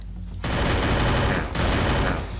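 Rapid automatic gunfire in the mobile shooter Free Fire, two sustained loud bursts of fast shots separated by a brief break, close and dominant.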